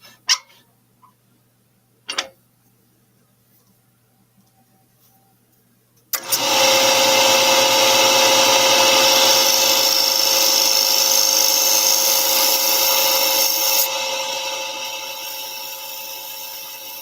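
A scraper meets a honey pot lid spinning on a wood lathe: after a few isolated knocks and near silence, a loud, steady whirring, rasping cut kicks in abruptly and runs continuously, easing slightly in level toward the end.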